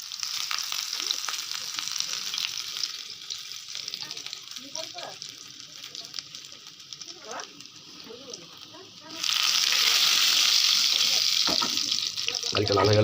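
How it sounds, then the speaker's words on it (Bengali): A teaspoon of garlic fries in hot oil with a continuous crackling sizzle that grows noticeably louder and denser partway through, with a voice heard faintly at times. "তেলটা গরম হলে গার্লিক দিলাম 1 টিস্পুন"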